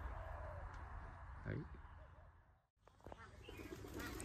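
Captive decoy birds, two females brought from Mù Cang Chải, call while fighting in a rural bird-trapping setting; short coos and chirps rise over steady background noise, with someone talking throughout.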